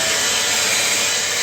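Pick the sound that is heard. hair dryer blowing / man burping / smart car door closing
hair dryer blowing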